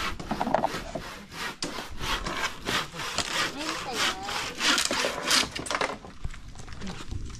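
A hand saw rasps back and forth through wood in quick, steady strokes at a rest house construction site, close and loud, with a few words in Filipino spoken over it.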